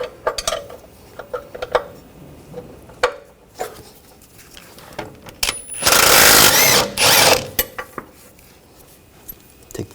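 A 21mm wrench works the nut off the ball joint bolt on the rear lower outer suspension of a 2000-2006 BMW X5, making scattered close metallic clinks and taps, with a louder, denser burst of metal clatter midway.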